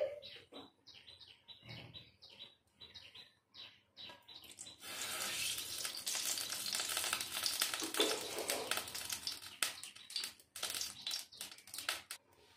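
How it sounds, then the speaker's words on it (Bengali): Mustard oil poured into a hot wok before frying fish: a voice talks briefly at first, then a loud, crackling sizzle bursts up and continues, fading into intermittent spits and pops. "কড়াইটা গরম হয়ে গেছে, এখন দিয়ে দেবো সর্ষের তেল।"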